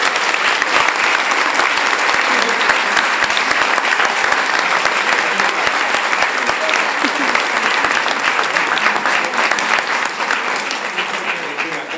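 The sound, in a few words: audience applause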